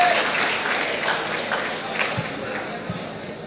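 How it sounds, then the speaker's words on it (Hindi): Enthusiastic applause from a student audience at a boys' hostel day performance, steady dense clapping mixed with crowd noise throughout, close and continuous with a few louder claps near the end. "जोरदार तालियां।"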